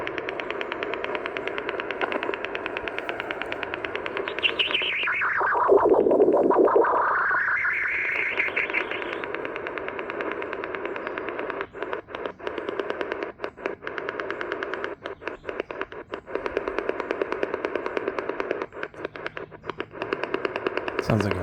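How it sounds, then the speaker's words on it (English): An over-the-horizon radar signal received on a Sangean ATS 818 shortwave radio, heard as a harsh buzzing rasp over a steady droning carrier, with a sweeping tone midway and a rapid choppy pulsing later. "here we have an over-the-horizon radar signal coming in."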